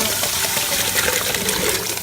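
Potatoes for Trinidad and Tobago curried potatoes go into salted water amid a steady, loud rush of water that runs without pause throughout.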